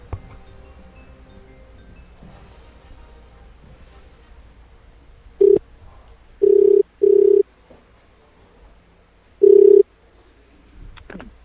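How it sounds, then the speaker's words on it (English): A telephone call placed from a radio studio: quiet dialing and line noise, then four loud ringback tones in a broken rhythm, the last one longer, with faint background hum. "Let's phone Robbie."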